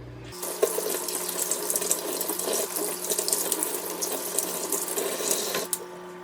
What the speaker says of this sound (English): you can go ahead and just rinse that off with warm water